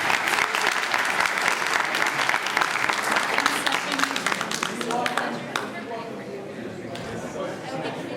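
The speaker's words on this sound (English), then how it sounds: "Applause for Boba." A Motor City Comic Con 2015 audience gives a dense burst of applause for Boba Fett actor Jeremy Bulloch, loud clapping that fades after about five seconds into crowd murmur and talk.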